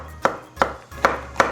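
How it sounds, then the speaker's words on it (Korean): A kitchen knife cuts shiitake mushrooms into long strips on a cutting board, giving four crisp, evenly spaced chops that sound close and distinct. "길쭉길쭉하게 썰어서"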